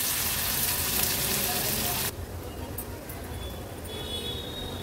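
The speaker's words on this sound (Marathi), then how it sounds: "गॅसची फ्लेम थोडी लो करून कांदा आपल्याला शिजवून घ्यायचा आहे।" One medium chopped onion cooks over a lowered gas flame, opening with a loud, bright sizzle that drops abruptly to a softer crackle, with faint scattered clinks afterward.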